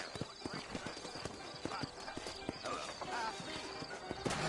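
Horse hooves in the video game Red Dead Redemption clip-clop in a quick, steady rhythm on a hard surface, fairly faint, with a voice talking over the top.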